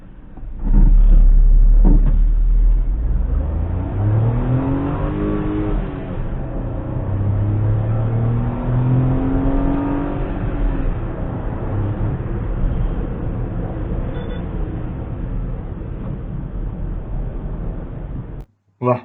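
A Suzuki S-Presso with the AGS gearbox accelerates in M mode. A close, loud engine drone rises in pitch and holds long between slow shifts, then cuts off abruptly.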